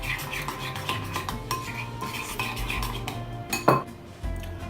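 A spoon or whisk stirs beetroot salad dressing in a bowl, clinking steadily against the sides with light scraping, close and fairly loud, with one sharper clatter near the end.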